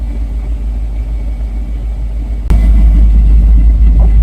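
A Subaru Forester engine held at raised RPM during a thermostat replacement, a loud, steady close rumble that steps up sharply in level halfway through and stays constant, with no voices.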